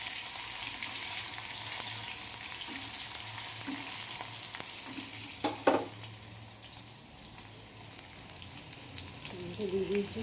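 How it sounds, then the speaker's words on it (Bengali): Chopped tomato dropped into hot oil in a wok with a cumin tempering sizzles steadily, with a burst of clattering stirring midway and a gentle crackle continuing afterward. "যে টমেটোটা দিয়ে দিচ্ছি, কড়াই জিরে ফোড়ন দিয়েছি"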